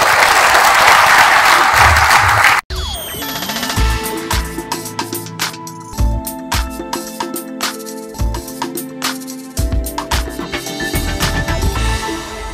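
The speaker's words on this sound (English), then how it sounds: "Ladies and gentlemen, please give a warm round of applause." An audience applauds at a leadership talk, starting with dense, loud clapping that stops abruptly and gives way to scattered, irregular sounds and music-like tones.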